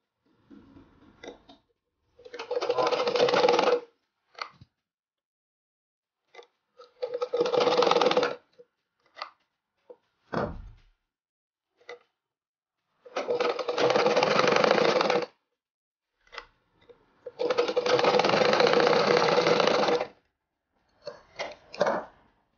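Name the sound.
sewing machine stitching a frock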